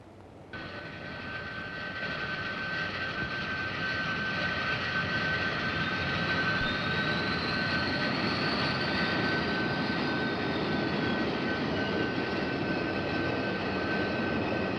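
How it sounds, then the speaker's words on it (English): Jet aircraft engines spool up from a quiet start into a loud, steady roar with a rising whine layered on top, sustained close and without pause. "Start jets."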